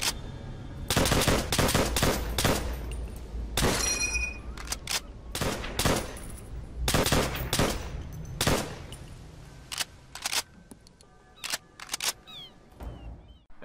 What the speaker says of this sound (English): shooting and reloading